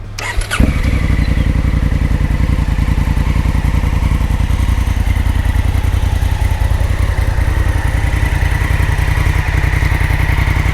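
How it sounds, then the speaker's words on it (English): A 2017 Honda Africa Twin CRF1000L fitted with an Akrapovic exhaust starts up and settles into a loud, close, steady idle with an even rapid pulsing beat that holds for about ten seconds. "let's listen to the exhaust note"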